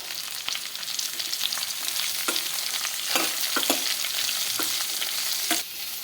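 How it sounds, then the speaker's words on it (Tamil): Onions sautéing in a pan for an onion masala make a continuous close sizzle, with intermittent scraping strokes of a spatula stirring through them. "வெங்காயத்தை போட்டுக்கலாம் போட்டுட்டு இதையும் நல்லா வதக்கி விட்டுடுவோம்"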